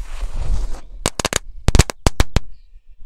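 A Crazy Ball firecracker goes off in a rapid string of sharp, loud cracks, about a dozen in irregular bursts, after a stretch of hissing, rushing noise.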